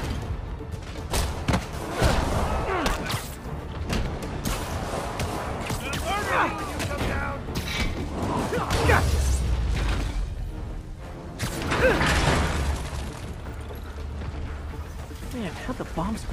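Rockets bursting in a Spider-Man video game, heavy booming thuds and rumbling blasts recurring through the scene with louder swells near the middle and end, mixed under game dialogue.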